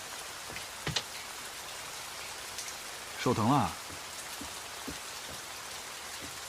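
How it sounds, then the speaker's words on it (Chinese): Heavy rain pours as a constant, even hiss, while a person briefly speaks partway through. "下这么大雨，怎么坐外面了？"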